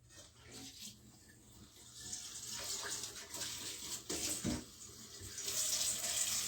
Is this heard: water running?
yes